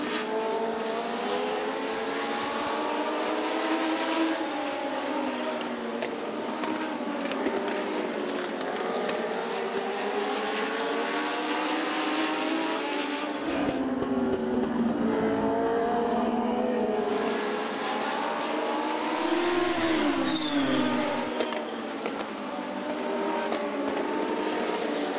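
Legends race cars circle Southside Speedway, a pack of engines droning loudly and continuously as they roll up the back straightaway, pitch rising and falling as cars pass, with a brief dip when the field moves away.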